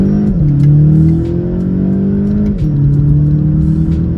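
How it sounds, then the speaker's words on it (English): A 2020 Volkswagen Golf GTI front-wheel-drive hatchback engine revs hard and close in a first-gear pull, pitch climbing steadily, dropping briefly at a shift point, then climbing again under continuous loud engine roar. "we're gonna go ahead and do a first gear pull"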